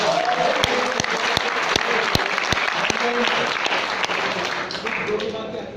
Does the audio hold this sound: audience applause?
yes